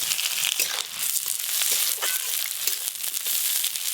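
Chopped onions hitting hot oil in a pan with whole spices for a rohu fish curry, a loud steady sizzle and crackle with faint stirring scrapes, close and continuous.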